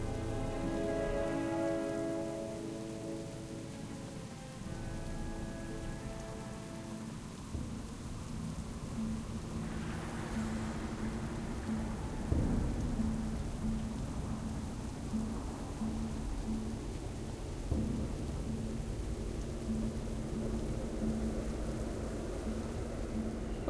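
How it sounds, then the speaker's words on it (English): Steady rainfall patters on surfaces in a World of Warcraft game world, with low rumbles of thunder rolling in the middle, alone without talk after some faint musical tones fade at the start. "it's just a peaceful walk in the rain up the hill here, and around the bend"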